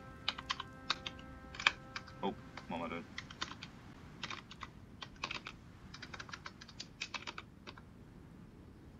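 Quick bursts of clicky keystrokes on a computer keyboard enter a console command in Hearts of Iron IV, close and crisp, with a short muttered remark partway through.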